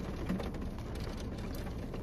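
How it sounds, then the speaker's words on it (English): Soft, steady rain patters outdoors as a continuous faint hiss of drops hitting surfaces, with no voices. "It's been raining on and off"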